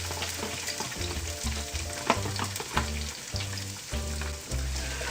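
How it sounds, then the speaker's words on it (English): Eight cloves of chopped garlic and onion sautéing in oil in a pan for Spanish longaniza and rice. A close, steady sizzle and crackle with light stirring scrapes and a regular low pulsing underneath. "I love the smell of garlic and onion just sautéing, and cooking."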